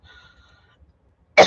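A single harsh cough bursts out near and loud at the very end of a quiet stretch, from an unwell person at home working on a canvas doodle.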